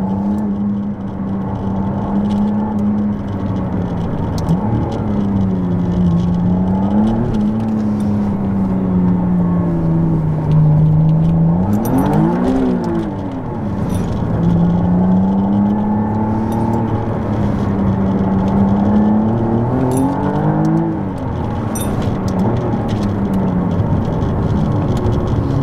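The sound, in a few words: McLaren Artura hybrid supercar accelerating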